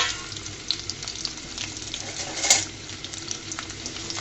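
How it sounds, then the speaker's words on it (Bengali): Chopped garlic fries in hot soybean oil with a steady, fairly quiet sizzle and occasional light clinks of stirring, no voices over it. "দিয়ে সুন্দর মতো লাল লাল করে ভেজে নেব রসুনটাকে নেড়ে চেড়ে"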